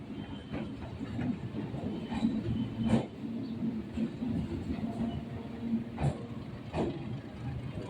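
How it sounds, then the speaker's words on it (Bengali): A diesel locomotive hauls an express train in reverse through a Kolkata station, giving a steady low engine rumble with repeated sharp wheel clacks over the rails, close by. "ডিজেল ইঞ্জিন উল্টো নিয়ে যাচ্ছে"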